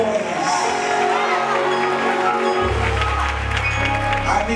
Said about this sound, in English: I need y'all to make some noise.